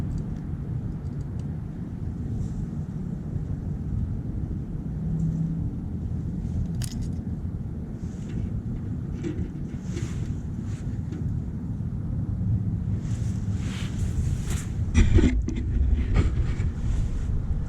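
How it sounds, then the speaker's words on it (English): Steady wind rumbles and buffets the microphone outdoors, a constant low roar with occasional light clicks and taps on top. "Maybe just a little too windy out there."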